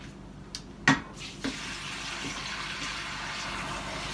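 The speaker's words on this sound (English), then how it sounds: "Now the last thing we're going to do is add some water." Water pours steadily into a stockpot of chicken bones for bone broth, a continuous broadband rush with a couple of clunks at the start, close and alone.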